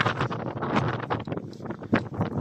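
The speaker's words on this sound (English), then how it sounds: "as you can probably hear, it's quite breezy" Breezy wind at an RSPB nature reserve on Wallasey Island, heard outdoors as loud, gusty buffeting on the microphone that rumbles on without a break.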